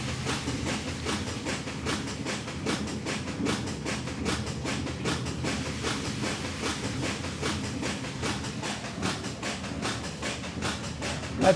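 Big Eureka motor running on 210 AA batteries wired in series, a steady rhythmic mechanical chugging and clatter that holds at an even level throughout, with no talk over it.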